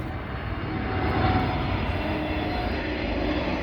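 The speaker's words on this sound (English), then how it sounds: "let this plane go by." A propeller airplane passes overhead above a house in Williamsville, a steady broad engine drone that swells slightly and holds for several seconds with no speech.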